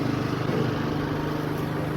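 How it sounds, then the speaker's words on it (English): A lawnmower engine runs steadily as it rolls over concrete, giving a constant mid-distance drone with a broad noisy wash and no talk over it. "The lawnmower's on."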